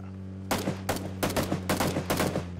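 Gunfire in the battle-royale game PUBG: about six sharp shots in uneven quick bursts, moderately close, over a steady low hum, with no talking.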